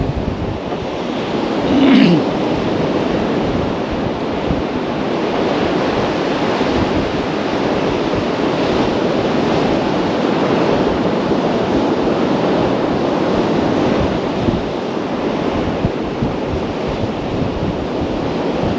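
Sea waves roll steadily onto a beach at Kilnsea on the UK coast, with wind buffeting the microphone in a continuous loud roar and no talking.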